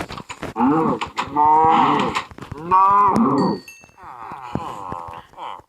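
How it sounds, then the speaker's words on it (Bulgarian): A cow in Minecraft Pocket Edition 0.15.1 moos loudly and close, with several drawn-out calls in a row followed by a softer, shorter moo. "Ох, крава!"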